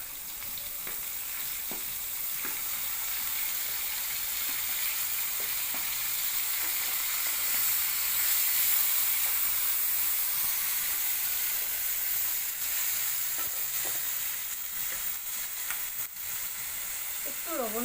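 Chopped onion and whole cumin seeds sizzling in hot oil in a pan for crab curry, a continuous close hiss with occasional soft stirring taps, steady throughout and without speech.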